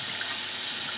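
Water runs steadily over a dirty tin toy as it is washed off during restoration, a close, continuous tap-like rush for about a second.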